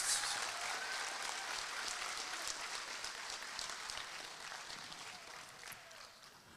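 Steady applause from a crowd, sustained clapping throughout with no voices above it.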